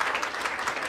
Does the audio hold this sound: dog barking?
no